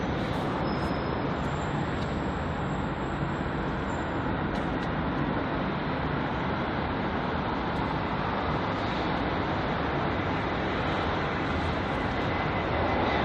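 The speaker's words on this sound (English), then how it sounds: "So the Aer Lingus A320-200." Aer Lingus Airbus A320-200 airliner at London Heathrow, a steady distant roar of jet engines with broad rushing noise throughout, fairly faint and with no talking.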